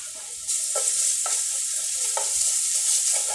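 Garlic and onion hit hot oil in a pan and start a loud, steady sizzle, with a spoon stirring and scraping in short, repeated strokes through the frying.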